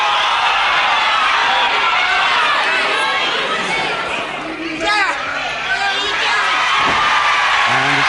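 Wrestling match crowd roaring and shouting at the referee: dense, continuous, loud chatter and yelling from many voices, with whoops rising through it.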